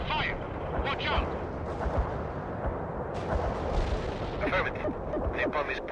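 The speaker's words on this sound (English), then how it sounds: "Incoming fire!" Incoming artillery fire in the World in Conflict game, a continuous dense battlefield roar of blasts and rumbling impacts, with radio voices and shouts mixed in.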